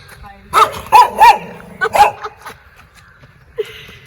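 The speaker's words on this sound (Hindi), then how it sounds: "अब ये भौंकेंगे तो पता चल जाएगा" A dog barks several times in a quick uneven burst, close and loud, followed by a couple of softer yips and a faint whimper, with a person's voice briefly nearby.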